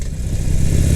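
A motorcycle's mid-pitched engine hums steadily at low speed while a rider shifts gear, with a brief clatter near the start and a slight change in the engine note. It is close and fairly loud, with no talking.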